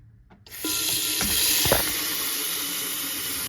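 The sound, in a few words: filling a saucepan with water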